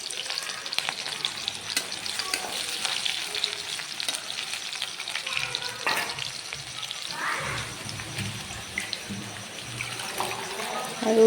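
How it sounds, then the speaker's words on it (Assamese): Onion and green chilies frying with drumstick vegetables, a continuous bubbling sizzle with occasional stirring scrapes, moderately close and steady throughout. "এয়া পিঁয়াজ আৰু কেঁচা জলকীয়া দি ল'লোঁ।"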